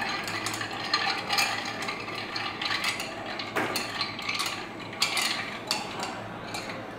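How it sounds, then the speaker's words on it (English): A martini is stirred with a cocktail spoon in a glass, making light, close clinks and scrapes in an uneven rhythm, with no talk. "stir the blend with a cocktail spoon."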